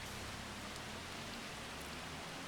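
Steady rain in Farming Simulator 25 hisses softly and evenly throughout, a faint continuous wash of falling drops with no other sounds.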